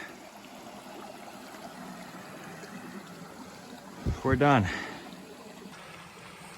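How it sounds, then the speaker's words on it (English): A river on the Appalachian Trail near Mahoosic Notch runs as a faint, steady rushing wash in the background, while a voice speaks briefly over it near the end. "There's the river."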